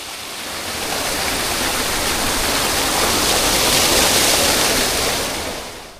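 A monsoon waterfall stream in Purulia rushes down from above in a loud, dense, continuous roar of falling water that swells slightly through the middle and holds steady throughout.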